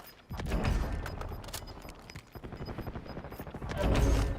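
Rapid gunfire in Call of Duty: Warzone, bursts of shots crackling and booming loud and close across the whole stretch, swelling at the start and end with scattered single reports between.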